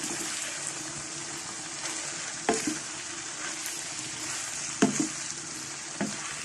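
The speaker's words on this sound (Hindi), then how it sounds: "सब्जियों को मैंने मिक्स कर लिया अच्छी तरह से मकरोनी में" Boiled macaroni mixed with vegetables is stirred in a hot pan, making a constant sizzling hiss with a few louder scraping turns of the spoon. There is no speech.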